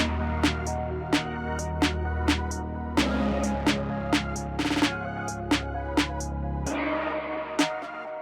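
Lo-fi vocal chant sample drenched in delay and reverb inside a trap beat, sustained hazy tones over evenly spaced percussive hits, moderately quiet with no talking.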